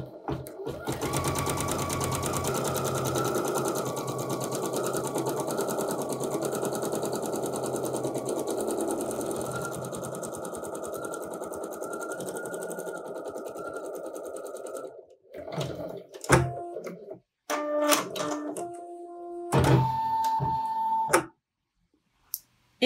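A computerized embroidery machine stitches a design with a vinyl appliqué, running in a steady, rapid mechanical whir for about fifteen seconds, then stopping and starting in short bursts near the end.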